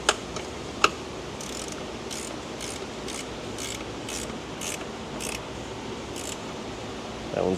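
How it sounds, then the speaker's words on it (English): A ratcheting wrench tightens a bolt on a Chrysler Dodge 3.6 engine, giving a series of quick, evenly spaced ratchet clicks up close, preceded by a couple of sharp metallic knocks. "The miracle of ratcheting wrenches"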